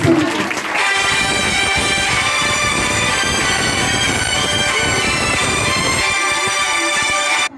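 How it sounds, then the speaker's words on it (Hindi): An audience claps loudly at an Independence Day celebration, with steady applause running for several seconds under music. "इसलिए जोरदार तालियां बजाइए"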